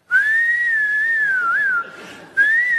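A man whistles a high, thin, steady tone to imitate ears ringing after hours beside a loud disco's speakers, holding the pitch with slight wavers, breaking briefly, then resuming, loud and close.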